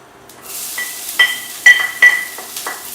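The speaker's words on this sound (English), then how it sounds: "Add about 2 dried red chili and saute them well" Dried red chili, peanuts and chopped onion being sautéed in a pan, a soft fry with a few sharp metallic clinks and scrapes of stirring, close and fairly loud.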